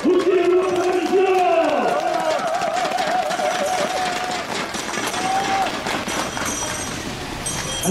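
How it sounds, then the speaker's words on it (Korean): At an outdoor political rally, a crowd cheers and shouts with scattered clapping, loud and continuous, while amplified voices call out over the noise. "우리 김 대표를 위해서 박수 쳐주시고"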